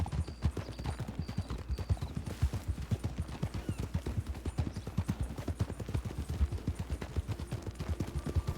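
Horse hooves clip-clop at a steady, even walking pace in the Western roleplay game Red Dead (WildRP); the hoofbeats are close and distinct, with no talking.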